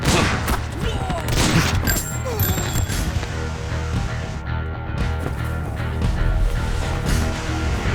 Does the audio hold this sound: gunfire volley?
yes